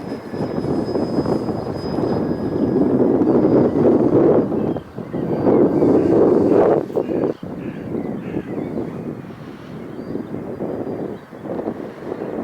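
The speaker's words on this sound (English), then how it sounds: "it's definitely a blustery old day" Blustery wind buffeting the microphone outdoors on a field where a fixed-wing FMS Kingfisher model plane is flown, a loud continuous roaring rumble that surges and eases in gusts, with brief dips.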